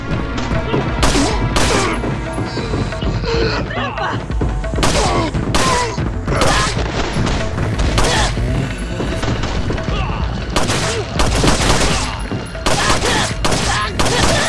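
Rapid gunfire from a woman's handgun in Resident Evil 4's Separate Ways, dense bursts of shots and impacts layered with game action and music, loud and continuous throughout.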